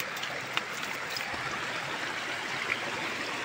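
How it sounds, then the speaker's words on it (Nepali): Water rushing downhill in a stream, a steady, soft hiss of flow with small gurgles, fairly close and with no voices over it. "पानी त यति ठुलो छ त"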